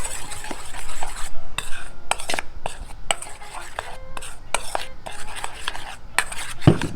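A utensil stirs a sauce mixture with added water for orange chicken, cooked outdoors in a backyard, producing close clinking and scraping strokes against a bowl in irregular bursts with short quiet gaps.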